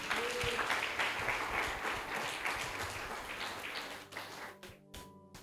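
A church congregation claps loudly in praise of Jesus during a sermon, a dense, steady round of applause that thins out and tapers to a few scattered claps within about five seconds.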